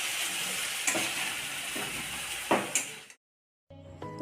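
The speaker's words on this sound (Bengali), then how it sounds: "আলু আর কাঁচা কলাটাকে আমি একটু ভেজে নিলাম।" Potato and raw banana pieces shallow-frying in a pan, a close, steady sizzle with a few spatula scrapes, cutting off abruptly before a short tonal tail.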